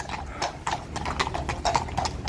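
Police horse hooves clip-clopping on hard ground, a steady close rhythm of several sharp hoof strikes.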